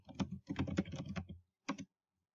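Keys clacking on a computer keyboard while a full name and professor's name are typed into a document header: a dense burst of rapid strokes, a short pause, then a brief final flurry, close and clear.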